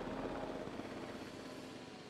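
Helicopter in Jurassic World Evolution 2, Chaos Theory mode: a continuous, steady rotor drone that holds at an even level throughout without pause.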